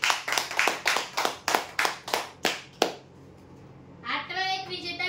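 Audience at a prize draw clapping for a winner, about ten loud, evenly spaced claps that stop abruptly, followed by a pause and then a voice speaking.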